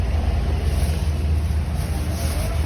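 An electric fan that had been cutting out runs with a steady low hum and whir, close and fairly loud, constant throughout without pauses.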